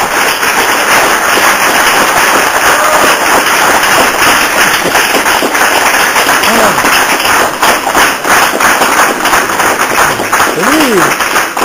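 Sustained applause from a lecture audience in a conference room, a dense steady clatter of many hands clapping loudly for the full length, with occasional voices rising briefly underneath.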